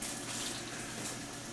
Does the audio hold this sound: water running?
yes